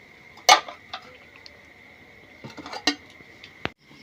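A metal lid clanks onto a pot, followed by a few lighter clinks and rattles, with a faint steady insect-like whine in the background.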